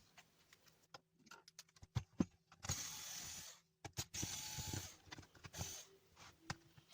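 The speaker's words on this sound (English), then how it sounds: "Remove the rest of the screws, just like that" Faint, close clicks and scratchy ratcheting come from screws being turned out of a Xilence 1050W power supply during repair, with short bursts separated by brief pauses.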